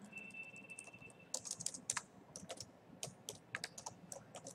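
Someone types a statement on a computer keyboard in quiet, close bursts of clicking keystrokes with short pauses between words. A faint steady tone hums underneath at first.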